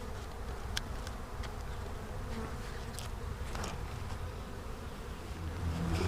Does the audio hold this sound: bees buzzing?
yes